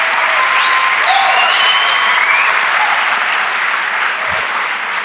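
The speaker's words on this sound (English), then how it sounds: "The applause of these cucks." Sustained audience applause fills the whole stretch, a dense steady wash of many hands clapping with a few faint whistles or cheers mixed in, loud and continuous without any talk over it.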